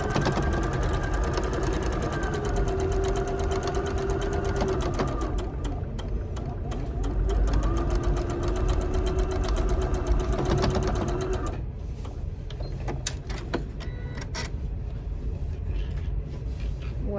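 A sewing machine stitches a quilt block seam, running in close, rapid mechanical bursts with a whirring motor, pausing briefly and starting again before stopping near the end; faint handling noises follow.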